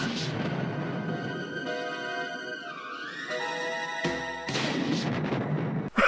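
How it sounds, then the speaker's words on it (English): A rocket launcher fires in the 1980s action film Hard Ticket to Hawaii: a long roaring rumble under a steady tone that sweeps down and back up, then a sharp burst near the end. "one of the secret agents pops up a rocket launcher, and then proceeds to do this."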